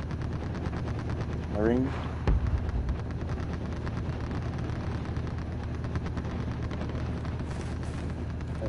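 Sustained machine-gun fire in a multiplayer shooter, dense rapid rattling that runs continuously at steady loudness, with a brief heavier impact early on and players talking over it.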